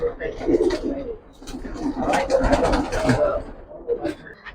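Pigeons coo in a loft, low rolling calls repeating close by, mixed with someone talking over them.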